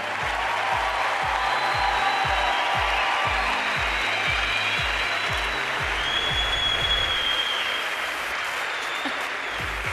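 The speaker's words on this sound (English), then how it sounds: "let's give another big round of applause for our Moto3 World Champion" Loud, sustained audience applause at the MotoGP awards in Valencia for the Moto3 World Champion, a dense wash of clapping from a large crowd with a low rhythmic beat underneath.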